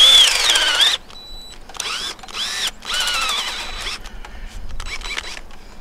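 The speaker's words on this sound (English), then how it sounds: "Hang on a second here, it's gonna drill this hole." A power drill whirs in several bursts, winding up and down as it bores a hole into a maple tree, close and loud with short pauses between runs.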